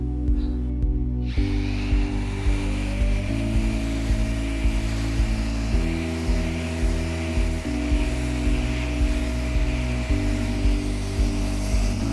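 An electric sander with 80-grit sandpaper whirs steadily with a droning motor tone, pitch shifting slightly as it grinds across a terrazzo floor, continuous and close.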